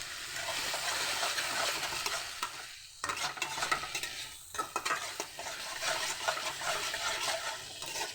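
Spice paste of ginger and mustard powder with a little water frying in a pan, a soft sizzle under busy scraping and stirring strokes, with brief pauses, fairly quiet and close.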